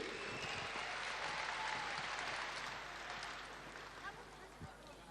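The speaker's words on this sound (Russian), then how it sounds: "Ваши аплодисменты!" A concert audience at a New Year's show applauds in a broad, dense wash of clapping that swells early and then gradually thins and softens.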